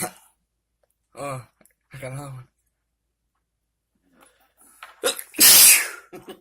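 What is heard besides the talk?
sneeze triggered by perfumey hemp seeds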